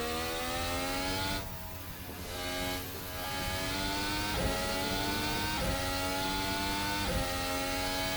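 A hybrid Formula 1 race car engine in the Formula Hybrid 2019 racing sim revs hard and loud, its whining pitch climbing and dropping repeatedly through gear changes, alone with no talk.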